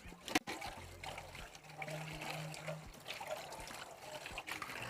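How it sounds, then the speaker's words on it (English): Faint running water from a kitchen tap trickles and splashes as a bowl is rinsed, with a low hum and a few soft knocks in the background. "let me wash me a bowl to catch these shrimp in once we're done with them"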